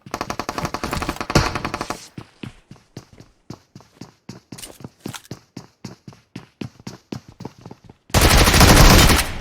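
Gunfire in PUBG Mobile: a long rapid burst, then a steady train of evenly spaced single shots, and finally a dense loud roar of shots near the end, all close and loud with no talk.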